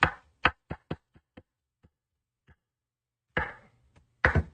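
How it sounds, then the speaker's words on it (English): Knife chopping garlic on a board while cooking a homemade sauce at the stove: a burst of firm, close chops, then sparser lighter taps trailing off, a pause, and a couple more loud chops near the end. "Having a little bit of trouble kind of chopping straight through."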